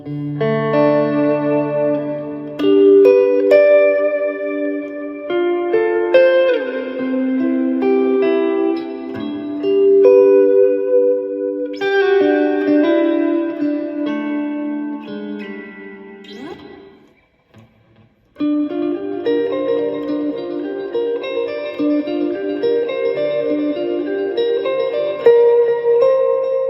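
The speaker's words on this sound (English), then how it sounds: "I think this one's actually called Cathedral in the tone print." Electric guitar run through a TC Electronic-style Cathedral TonePrint church reverb on a budget worship pedalboard, sustained chords and melodic notes blooming into a big wet wash with long tails, loud and alone, one brief dip to near silence midway.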